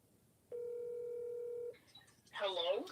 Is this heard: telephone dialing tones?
yes